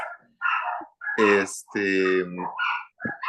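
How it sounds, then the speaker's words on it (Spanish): Dogs bark somewhere outside, a series of sharp, irregular barks and yelps of varying loudness with short gaps between them. "creo que suenan los perros por aquello"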